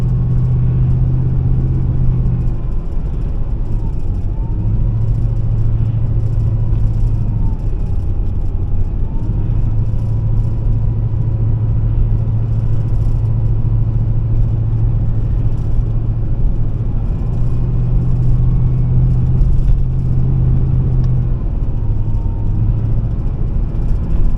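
A van driving at steady speed, its power steering or Hydroboost unit giving off a continuous whine over a loud, constant road and engine rumble heard from inside the cab, with no talk.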